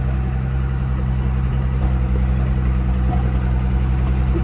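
A truck tractor's engine idles steadily nearby, a constant low rumble and drone with no pauses, loud and alone with no voices over it.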